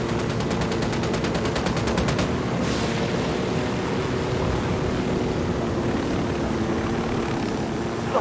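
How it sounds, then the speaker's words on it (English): Sustained automatic gunfire from a rapid-firing weapon in Tom Clancy's Ghost Recon Wildlands, a dense burst of regular shots over a steady aircraft or engine drone that continues loud throughout. "I'm opening fire."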